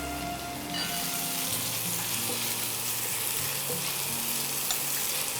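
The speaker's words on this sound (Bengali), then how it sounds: "একটু ভালো করে কাঁচা গন্ধটা যাওয়া অবধি ভাজবো" Okra masala with tomato fries in a pan for bhindi do pyaza, a steady close sizzle and stirring hiss throughout with faint tonal background hum and no speech.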